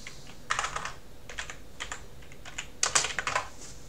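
Computer keyboard typing while setting up a French layout in DOSBox to install MS-Windows 3.1: scattered bursts of quick keystrokes, close and fairly clear, with short pauses between flurries and no talking.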